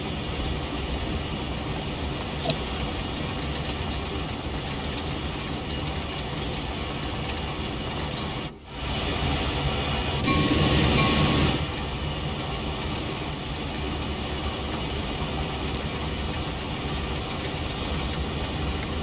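A Caltrain commuter train coasting south of Santa Clara in Train Sim World, with a steady rumble of rolling wheels and cab noise throughout, a brief dropout midway and a slightly louder hissing swell just after.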